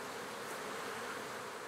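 Honeybees buzzing around beehives at Toulouse-Blagnac airport, a steady, dense hum of many insects, continuous and moderately quiet, with no voices.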